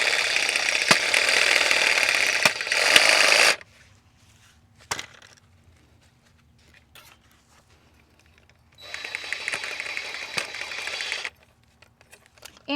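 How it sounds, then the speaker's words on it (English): A DeWalt Sawzall reciprocating saw cuts through the root system of a potted Eve's Needle cactus in two loud, buzzing bursts separated by a quiet pause with faint handling sounds. "this is a DeWalt Sawzall, and it is the best thing since sliced bread."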